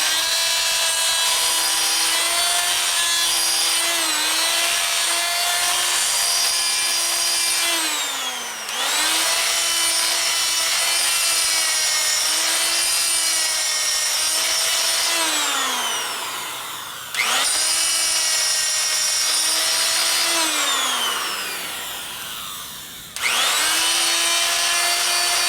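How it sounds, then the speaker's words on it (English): A big grinder works a part for a 1941 Harley WLD 45 flathead stroker motor. Its loud, close whine rises and dips in pitch under load, with brief drops as the tool is eased off and reapplied. "I'm gonna come back here and grind this way with my big grinder"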